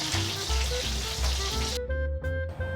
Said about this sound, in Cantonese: 終於都煎完啦！